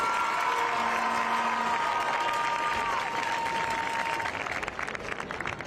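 A stadium crowd at a high school football homecoming game claps steadily and loudly throughout. A faint tonal hum from the public address system sits under the applause.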